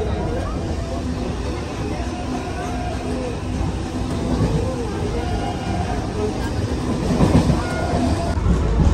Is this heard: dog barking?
no